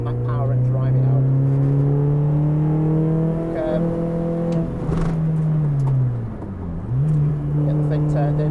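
A MINI race car on a circuit, its engine droning loud and close with a steady pitch that dips and climbs again as the driver lifts off and gets back on the power.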